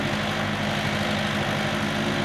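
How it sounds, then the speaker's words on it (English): A farm tractor engine runs at a steady idle nearby, a constant low rumble and drone that fills the whole stretch without change or speech. "still running the tractor"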